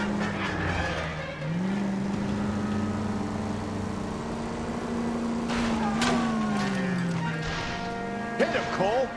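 Engine of a car in a chase in the video game L.A. Noire, a steady droning hum that shifts pitch as it speeds up, with brief clatter near the end and a voice talking over it.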